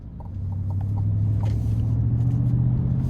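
A GMC Sierra 1500 Denali Ultimate's 6.2-liter V8 rumbles low and steady from inside the cab, a deep continuous exhaust drone swelling slightly over a few seconds.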